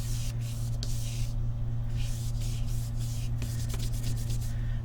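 Acrylic paint is rubbed off a card in several bursts of dry scrubbing, close and fairly loud over a constant low electrical hum.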